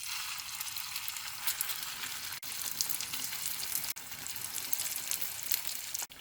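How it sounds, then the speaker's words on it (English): Turon, a sweet plantain snack, frying in hot oil: a continuous bright crackling sizzle, fairly even and close, broken by a few brief near-silent cuts. "We are ready to fry the turon."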